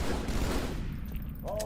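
Pistol gunfire in the Halo 2 campaign, a dense rapid run of shots forming a continuous crackling burst, loud and close, with a voice talking faintly underneath.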